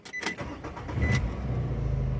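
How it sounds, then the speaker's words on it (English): A 2006 Nissan Altima 2.5 fired with its key: a few brief clicks and a short crank, then the engine catches and settles into a steady, close idle hum. "So let's show you that this key here now should start the car."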